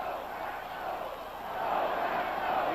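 Victory-starved Green Bay home crowd at Lambeau Field during a 1977 NFL game against Minnesota, a broad steady roar of fans swelling louder in the final second, with chanting voices blended into the din.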